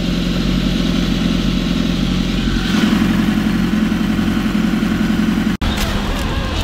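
A fully built Suzuki GSX-R1000 motorcycle engine runs steadily at a close, loud idle with a constant low rumble, a brief rev swell midway and a sharp cut near the end.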